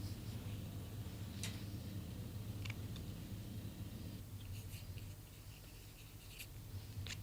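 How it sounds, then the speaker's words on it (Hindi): A pen signs the face of a playing card during a close-up magic act, making faint, short scratchy strokes at close range over a steady low room hum, with no talking. "इस कार्ड के ऊपर अपने सिग्नेचर कर दीजिए।"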